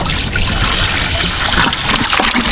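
Water trickling and splashing as it is poured over large live shrimp, a steady close liquid wash running for the whole stretch with small splatters.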